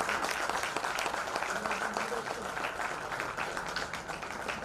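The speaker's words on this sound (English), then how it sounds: "I want you please give big round of applause for the entire student" Audience at a business partners' meet applauding students, a continuous spread of clapping heard at moderate distance with faint chatter underneath.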